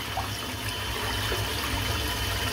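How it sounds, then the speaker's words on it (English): Lukewarm tap water runs continuously into the knot of a shaving brush, a steady close splashing and rushing sound with no pauses. "flush water into the base of the knot, spin it around in a circle, squeeze it out like so"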